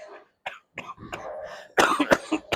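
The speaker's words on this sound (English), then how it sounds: "Excuse me for the coughing" A person coughs and clears their throat several times in quick, uneven bursts, the last few coughs loud and harsh.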